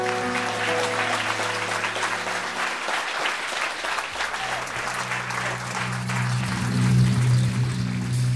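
A live concert audience applauds loudly and steadily for a performer, with sustained musical tones ringing underneath the dense clapping throughout.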